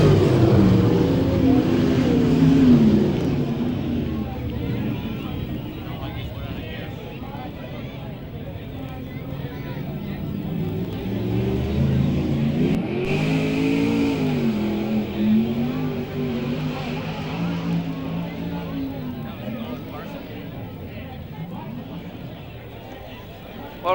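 Sprint cars race down the back straight at a 1994 USA vs WA Sprintcar Speedweek event, their engines droning and rising in pitch at a distance beneath continuous commentary.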